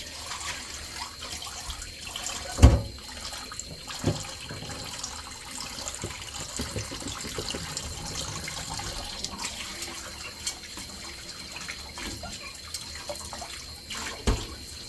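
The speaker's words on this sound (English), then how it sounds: "So I'm going to just wash this bowl here." Tap water running while a bowl is washed in a kitchen sink, a soft continuous splash with a few clunks of the dish, fairly quiet.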